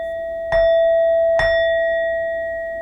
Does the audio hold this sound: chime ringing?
yes